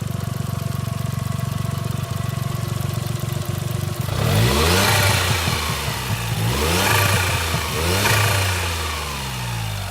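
A 1992 Suzuki Cappuccino engine with aftermarket blow-off valve and exhaust idles with a steady low rumble, then revs hard several times, the pitch sweeping up and falling back, loud and close.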